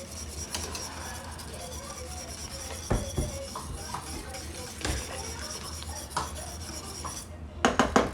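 A whisk scrapes and clinks against a pan as cheese is stirred into a milk sauce, an irregular metallic rubbing with a few sharper knocks, close and fairly clear.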